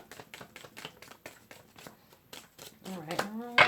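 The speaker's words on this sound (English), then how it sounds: "Last shuffle." Tarot cards being shuffled by hand in a run of quick, rhythmic riffling bursts, fairly close and soft, before a voice starts speaking toward the end.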